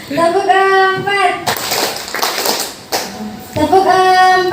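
A group clapping a counted pattern in a room, with a couple of dense bursts of claps between stretches of someone speaking, close and fairly loud.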